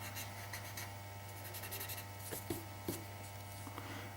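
A soft pencil shades across paper in steady, even back-and-forth strokes, close and fairly quiet, with a few slightly firmer scratches near the end and no talking.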